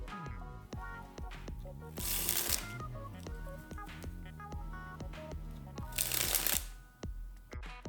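Playing cards riffled through the hands in a cardistry dribble, with a steady pattering cascade that swells into two louder bursts, set over soft tonal background music.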